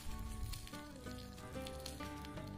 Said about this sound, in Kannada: ಈಗ ಸಾಸಿವೆ ಚೆನ್ನಾಗಿ ಸಿಡಿದ ಮೇಲೆ ಒಗ್ಗರಣೆನ ಇದಕ್ಕೆ ಮಿಕ್ಸ್ ಮಾಡ್ಕೊಳ್ಳೋಣ